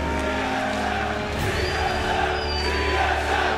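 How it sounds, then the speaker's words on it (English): Arena crowd at a League of Legends esports playoff match, a dense, steady roar of cheering throughout with no clear break. "as you can hear the crowd cheering"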